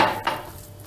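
A spoon stirring raisin cookie dough in a bowl, giving a couple of short, close scraping clinks in under a second.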